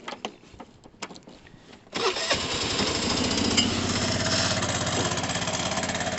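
A 125cc Vespa scooter engine cranks briefly after a few faint clicks, catches at once and settles into a loud, steady, close idle with a rattly rhythmic pulse.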